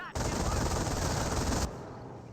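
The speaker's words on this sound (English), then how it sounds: "MG42 setting on up. Maybe it'll get suppression on this rifleman squad." An MG42 machine gun in Company of Heroes fires one sustained, loud, rapid burst lasting about a second and a half, then stops abruptly, leaving quieter game ambience behind.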